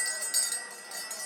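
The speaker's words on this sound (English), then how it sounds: "Every time the bell rings, it means some angel's just got his wings." A small bell ringing in a stage performance of It's a Wonderful Life, a bright sustained chime with a couple of faint strikes, fairly quiet.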